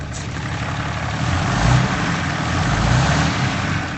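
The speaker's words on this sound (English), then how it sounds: "we'll see what a Cummins sounds like with no exhaust on it." A Cummins diesel engine with no exhaust fitted idles loudly and steadily nearby, a deep rumbling drone with a slight swell in the middle, no voices.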